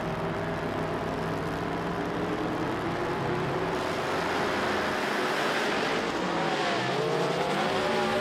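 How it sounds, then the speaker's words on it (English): At an NMCA drag race, a nitrous-assisted 1969 Camaro spins its tires with a loud, continuous engine roar and tire noise, the pitch rising and shifting as the car launches down the track. "Blowing the tires off of the 69 Camaro is Jackie Slone."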